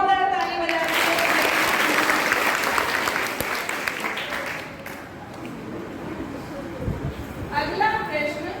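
Loud audience applause for schoolgirls from classes 6 to 8 during a quiz contest on Mahatma Gandhi, a dense clapping burst that swells and then thins out, with a speaking voice over the start and end.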